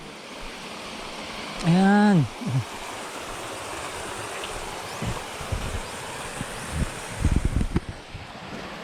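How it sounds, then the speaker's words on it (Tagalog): Magana Falls, a waterfall with a fairly gentle flow, gives a steady broadband rush of falling water throughout, with a person speaking briefly over it and some nearby rustling and handling noises. "So ayan na yung Magana Falls guys."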